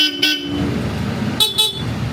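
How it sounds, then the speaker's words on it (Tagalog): A Bosch Europa horn fitted to a Honda ADV scooter gives two short close double honks, one near the start and one near the end, over a steady low idle. "Tapos yung busina, Bosch Europa."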